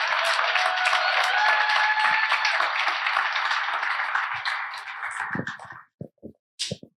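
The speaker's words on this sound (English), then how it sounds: "Let's give Sam another round of applause" Storytelling event audience clapping for a storyteller, a sustained round of applause that dies out after about six seconds into a few scattered claps and sounds.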